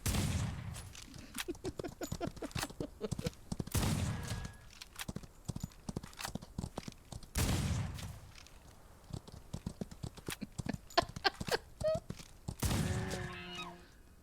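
Gunfire in the video game Outlaws of the Old West rings out as a series of sharp shots and heavy booms among hoofbeats and game sounds, scattered irregularly throughout.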